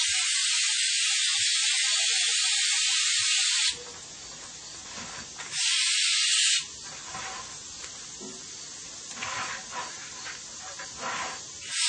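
Flex Seal rubber coating sprays from an aerosol can in long, loud, steady hissing bursts up close, broken by brief pauses with faint rustling between sprays.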